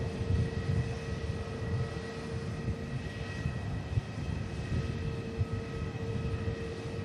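A parked EgyptAir airliner's engines produce a steady, distant droning roar with a low rumble and faint tonal whine, holding constant throughout without voices.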